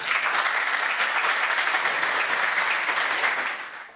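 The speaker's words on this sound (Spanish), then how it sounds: "Los recibimos con unas calurosas palmas." Warm audience applause welcoming speakers at a PUCP arbitration congress in 2019, dense and steady clapping from a crowd that fades out near the end.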